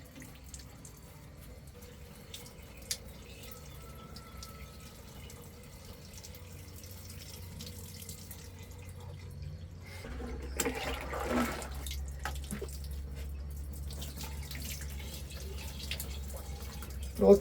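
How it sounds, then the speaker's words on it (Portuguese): Water leaks out as air is bled from a sprinkler irrigation system: a faint, steady trickle that grows into a louder, fuller rush of flowing water about halfway through. "vazou a água lá embaixo"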